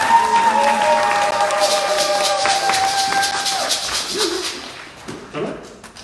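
A church congregation applauding and cheering for Jesus, a loud crowd of clapping and shouting voices that gradually thins out toward the end, with a few individual shouts near the close.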